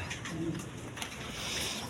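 Soft low cooing from a small group of Mokki pigeons kept for sale, a few brief murmuring coos close by amid faint background noise, without talk.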